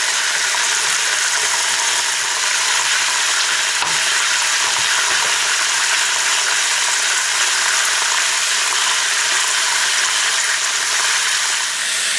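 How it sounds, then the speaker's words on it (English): Pork chops searing in a hot pan, a loud, steady, dense sizzle and crackle of frying fat that runs unbroken and close up, with no voices. "Now we're just gonna sear these on one side, and then the other"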